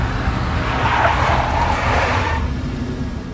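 Big black Mercedes in the Max Payne video game skidding, a loud rushing tire screech over a low engine rumble that swells mid-clip and then fades.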